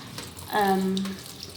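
Tap water runs briefly over a pineapple being washed at a sink, a short close splashing rush that rises and fades within about a second.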